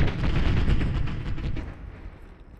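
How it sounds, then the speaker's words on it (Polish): Gunfire in the video game Arma 3 goes off near a squad's position as a dense burst of rapid, rumbling shots and booms, loud at first and then fading over a couple of seconds. "co to są za strzały obok naszej pozycji"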